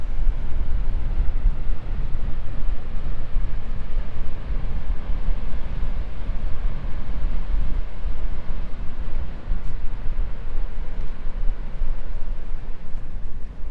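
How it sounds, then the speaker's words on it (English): Steady wind blowing by a river near a beach, a continuous low rumbling roar with gusty buffeting, loud and unbroken throughout with no talking. "you probably can hear a little bit of wind"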